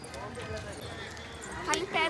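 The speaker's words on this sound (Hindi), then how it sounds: "ये घोड़ा देखिए" A horse's hooves clip-clop at close range at an outdoor spot, with people talking over and around the steps.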